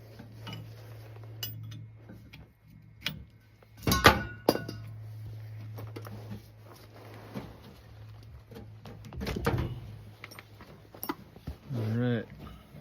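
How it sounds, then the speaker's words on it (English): A crescent wrench works on a steering part of a 2001 Subaru Outback 2.5L, producing scattered metallic clinks, taps and thunks over a low steady hum, with a few louder knocks and people talking. "Let's use a crescent wrench."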